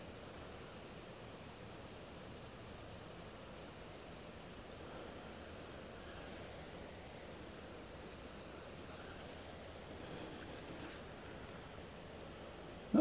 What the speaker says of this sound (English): just let you listen to the river.